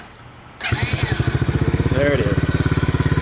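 A 2015 TaoTao 125D engine cranks and catches, then settles into a steady, rapid putter with even pulsing, close and loud, with a brief spoken remark over it.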